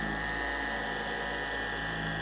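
Wet sanding the clear coat of neglected car paint with a machine sander, a steady high-pitched whine with a constant hum, close and unbroken.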